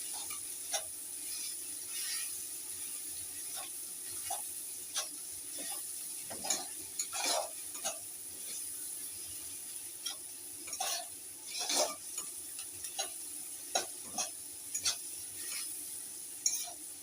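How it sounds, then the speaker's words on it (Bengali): Onions frying in a pan while being stirred, a faint sizzle under a constant high hiss, broken by irregular clinks and scrapes of a spatula against the pan, with no voices. "পেঁয়াজটা একটু লাল লাল করে ভালো করে ভাজতে দিতে হবে"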